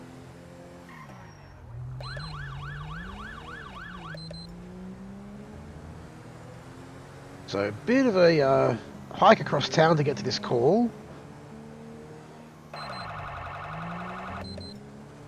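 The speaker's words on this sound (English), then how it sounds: "Those Queensland sirens sound a little bit weird to me" Wailing Queensland police sirens from a GTA 5 police mod play in several bursts, with someone speaking over the calmer stretches and a loud, chaotic siren-like passage in the middle.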